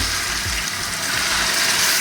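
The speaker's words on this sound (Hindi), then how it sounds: "अब हम इसमें ज़रा सा पानी का छींटा देंगे" Oil hisses and sizzles steadily as a splash of water hits chicken frying in a pan, a dense continuous crackle close up with no voices.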